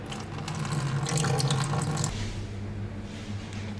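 Water runs from the drain outlet of a home reverse osmosis system, a close, steady splashing trickle for about two seconds that then thins into a quieter, softer flow.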